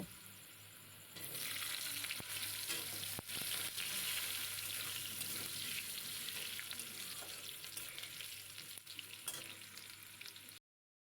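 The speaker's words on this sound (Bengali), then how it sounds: "প্রথমে আলুটা দিয়ে আমি একটু নেড়ে নেব" Diced potatoes frying in oil tempered with cumin and bay leaf, a steady close sizzle with scraping stirs throughout, ending abruptly.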